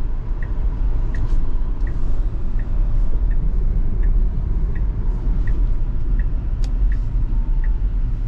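A 2021 Tesla Model Y Long Range dual-motor all-wheel-drive on a test drive, heard as a steady low road rumble and tire noise inside the cabin, with faint regular ticking like a turn signal throughout.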